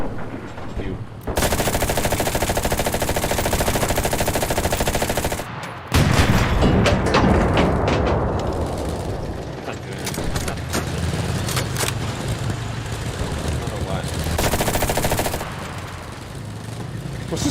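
Long bursts of rapid machine gun fire from a Panzer II tank in the World War II shooter Enlisted, loud and continuous, pausing briefly between volleys over a steady engine rumble.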